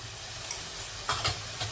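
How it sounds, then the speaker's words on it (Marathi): Masala with red chili powder and turmeric is sautéed in oil in a pan, making a soft, low sizzle with a few clear scraping stirs near the end, close and fairly quiet. "तर याला पण आपण परतून घेऊ"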